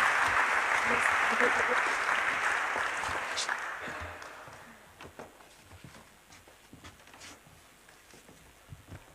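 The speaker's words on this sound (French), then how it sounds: "On peut les applaudir pour cette belle innovation dédiée aux étudiants." Applause from an award ceremony audience: dense clapping for the first few seconds, then thinning to scattered claps and murmuring voices.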